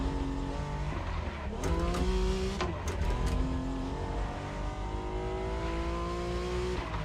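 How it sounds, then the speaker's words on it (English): A Honda NSX in The Crew Motorfest drives with a continuous engine drone whose pitch climbs and drops through gear changes. Brief tire chirps cut in near the middle, with no talk over the sound. "Yo, this Honda NSX, it's pure beast."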